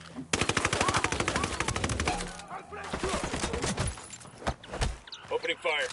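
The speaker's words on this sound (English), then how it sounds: "Opening fire." Rapid automatic gunfire from rebel forces in the Ghost Recon Wildlands video game, with dense bursts early and scattered shots later, loud and close, mixed with game voices.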